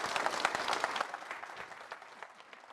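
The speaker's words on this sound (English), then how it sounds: "It's a bit of a lacklustre clap." Audience claps at a Conservative political speech, a thin, scattered round that starts fairly brisk and steadily tapers off, fading quieter toward the end.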